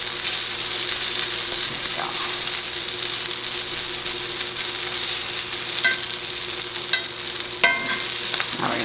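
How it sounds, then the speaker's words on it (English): Kiszka, Polish blood sausage, frying with onion in a pan, a steady bright sizzle throughout with occasional scrapes and pops from stirring, heard close and without talk. "Mix it with the onion, and we're going to be cooking this until it gets really nice and crispy."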